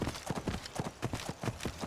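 Horse hooves clip-clopping at a steady walking rhythm in the video game Skyrim (modded), close and even, about a dozen regular hoof falls with a faint ambient bed and no talk.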